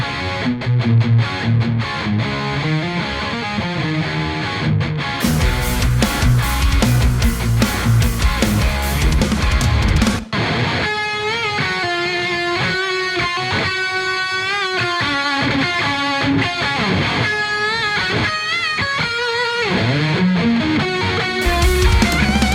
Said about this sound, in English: And the guitars, they sound like this if I solo them.